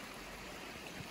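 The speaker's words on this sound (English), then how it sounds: "Nice little stream." A small stream in the Lake District hills near Catbells flows steadily and close by, a continuous broadband rush and trickle with no voices over it.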